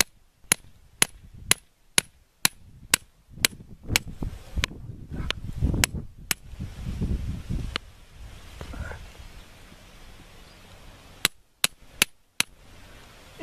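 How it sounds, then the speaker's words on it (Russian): A small hatchet driven by hammer blows splits a tree stem for autumn grafting: a series of sharp, evenly spaced knocks, then a stretch of rustling and wood handling, then a few more close, crisp strikes. "С помощью топорика и молотка."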